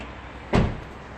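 A car door on a Volkswagen Jetta Comfortline opens with a single short, muffled thunk against a quiet background, with no talking.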